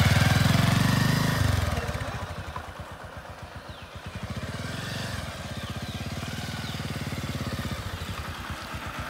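A motorcycle engine runs in first gear as the clutch is slowly let out, its steady rapid thumping close by after a louder opening rev, with no talking.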